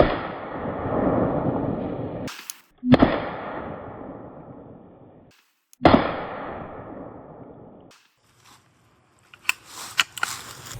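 A CZ Scorpion EVO3 fires its last rounds outdoors, a few loud, sharp shots spaced seconds apart, each trailing off in a long, fading echo, followed by faint clicks and handling noises.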